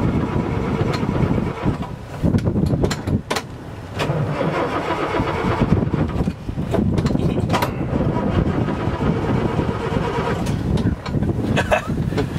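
A 1973 Land Rover Series 2A station wagon engine cranking and catching, then running roughly with uneven, sputtering revs, loud and close throughout with no voices.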